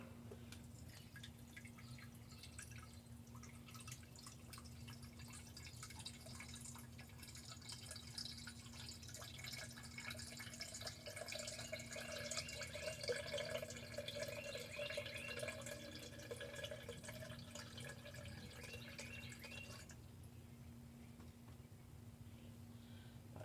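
Water runs in a thin, steady trickle into a jar of extra-ripe pineapple for homemade pineapple vinegar, faint and continuous for about twenty seconds before stopping abruptly.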